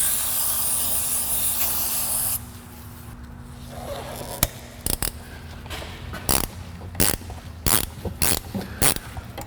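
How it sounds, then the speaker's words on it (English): Aerosol can of Zep Super Rust Breaker penetrant sprayed on a Ford Fox Body Fairmont underside: a steady loud hiss for a couple of seconds, then a series of sharp clicks and clanks from tools on metal. "I'm thinking I'll try some of this Zep Super Rust Breaker stuff on this here"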